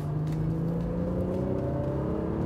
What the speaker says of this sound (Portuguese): um motor com esse ronco de 6 cilindros num Golfão